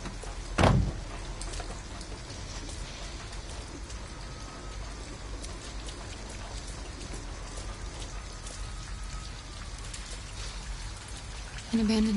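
Steady rain falls in the video game Detroit Become Human, a continuous wash of patter that runs throughout, broken by a brief knock near the start and a louder shift at the very end.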